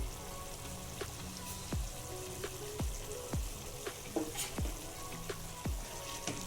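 Afghani chaap gravy with fried chaap pieces, black and white pepper powder and kasuri methi sizzles steadily in a pan, with a dense continuous crackle and occasional soft stirring clicks, close and fairly quiet.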